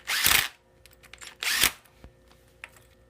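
A power tool tightens the sprocket bolts on a small motorcycle's wheel in two short, loud whirring bursts separated by a pause, followed by faint clicks and handling noises.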